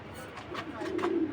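A silver-necked BTFC club pigeon coos in low, soft, throaty bursts that swell toward the end, close by over faint background noise.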